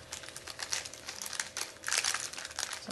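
A crinkly glassine bag is handled up close, giving continuous papery crackling and rustling in uneven bursts throughout, with no talking.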